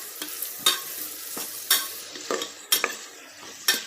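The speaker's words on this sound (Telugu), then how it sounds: "ఇలా పసుపు వేసుకున్న తర్వాత ఈ ఆనియన్స్ని బాగా వేగనివ్వాలి. బాగా కలుపుతున్నాను." Onions fried with turmeric for a goat head curry are stirred in a sizzling pan. A steady sizzle runs throughout, and about five sharp clacks of the spoon against the pan come at uneven intervals, close up with no voices.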